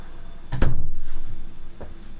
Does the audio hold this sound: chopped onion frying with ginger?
no